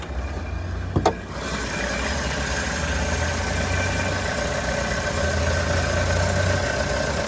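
A 2016 Chevrolet Cruze LT automatic with the 1.4-liter Ecotec four-cylinder idles steadily up close under the open hood, a smooth continuous hum with a brief click near the start.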